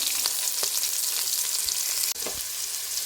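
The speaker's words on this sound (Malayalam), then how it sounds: "രണ്ട് വലിയുള്ളി അരിഞ്ഞിട്ട് കൊടുക്കും അര സ്പൂൺ ഉപ്പിട്ട് കൊടുക്കാം" Two chopped onions frying with half a spoon of salt in a pan for a cauliflower gravy, a steady close sizzle with a few scraping stirs and one brief clatter, no voices.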